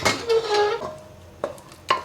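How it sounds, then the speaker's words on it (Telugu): Metal clanks and clinks as a pressure cooker of millet pongal is opened, a few sharp hits of lid and vessel against each other, close by, with quiet pauses between. "కుక్కర్ ఓపెన్ చేద్దామండి"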